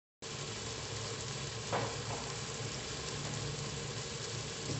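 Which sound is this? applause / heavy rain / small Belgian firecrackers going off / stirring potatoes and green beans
stirring potatoes and green beans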